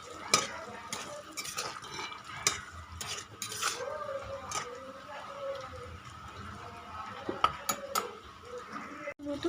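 Fried pointed gourd pieces are stirred and mixed with spices in a pan, with repeated spatula scrapes and clinks against metal over a quiet sizzle, fairly close and moderate in level.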